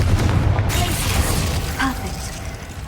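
A Confringo fire spell bursts in Hogwarts Legacy with a heavy booming explosion at the start, then a rumbling decay with scattered debris and crackles fading over a few seconds.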